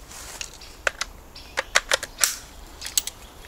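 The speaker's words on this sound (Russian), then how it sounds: "стрельба из пулемета" Distant machine gun fire rings out in sharp, scattered bursts of cracks over a quiet background in the Chernobyl exclusion zone, the shots irregular and fairly faint.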